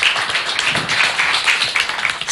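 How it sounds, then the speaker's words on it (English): A live crowd at a public panel event in Kenya applauds, a dense patter of many hands clapping together at close range, sustained and fairly loud for the whole stretch. "Please give him a round of applause."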